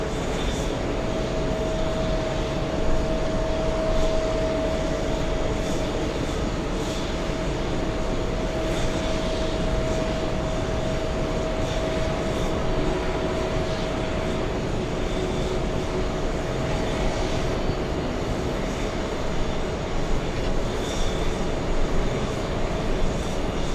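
A Neos airliner arriving from Milan at JFK airport makes a continuous roar of jet engines that stays broad and steady, heard from a distance outdoors.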